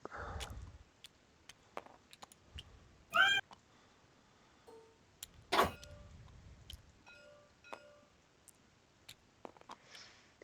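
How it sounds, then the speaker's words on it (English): A cat meows a few times in short, separate calls that come through fairly faintly against a quiet room, with small knocks and clicks in between. "It's a loud cat."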